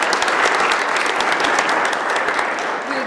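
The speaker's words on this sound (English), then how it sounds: "intermittent clapping of the hands?" Loud, sustained applause from an audience, dense clapping throughout that tapers slightly toward the end.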